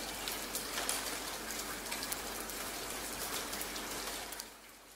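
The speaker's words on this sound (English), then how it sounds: "It's raining outside." Steady rain falls outside in a dense, even patter that runs unbroken and fairly faint throughout, fading slightly at the end.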